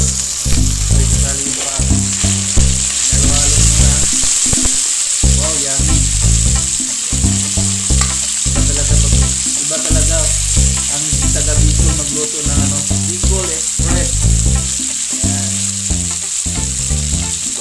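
Pork meat fries in a pan for Bicol express, a loud continuous sizzle and hiss with rhythmic stirring clatter throughout.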